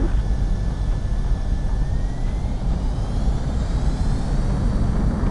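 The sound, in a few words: jet aircraft taking off in a video game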